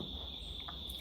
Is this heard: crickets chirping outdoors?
yes